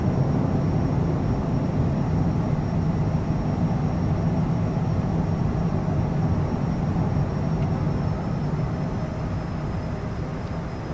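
A private jet takes off in Microsoft Flight Simulator 2020, its steady, loud engine roar holding near-constant and even throughout with no break.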